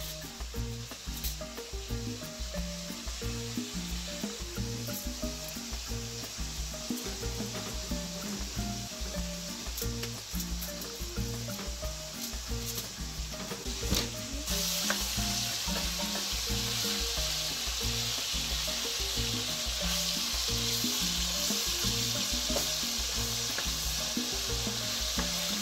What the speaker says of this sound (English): So I'm back to the one I'm frying now.